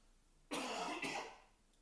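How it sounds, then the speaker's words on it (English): A person coughs twice in quick succession, close and fairly loud, the first cough stronger and the second trailing off, with no talking. "Gosh, I need to stop coughing."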